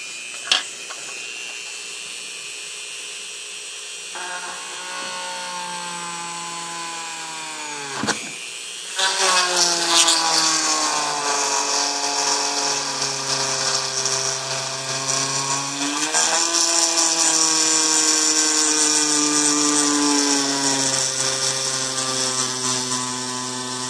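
A high-pitched Dremel rotary tool with a drill bit whines continuously while working an aluminum panel, shifting speed a few times with a brief drop midway, close and steady.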